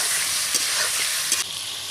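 Chicken pieces frying in hot oil with whole garam masala in a home kitchen, a steady loud sizzle with a couple of soft stirring knocks, heard alone without voices.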